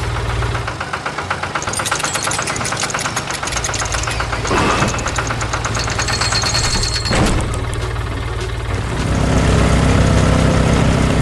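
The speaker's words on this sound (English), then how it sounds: "Now, the red and pink tractors stand ready." Red and pink tractor engines run loud and close as they work the soil, a heavy knocking diesel rumble with rapid mechanical clatter and a few brief rattling bursts, growing slightly louder near the end.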